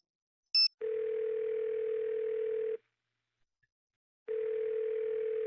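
A telephone in the video game Nancy Drew: The Deadly Device plays a short key beep followed by a steady dial tone, which stops, falls silent and then resumes, clear and alone.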